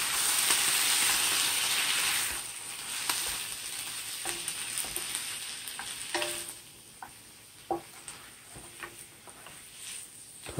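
Garlic and spring mix frying in coconut oil, with a loud sizzle and hiss at the start that fades to quieter crackling and soft stirring clicks.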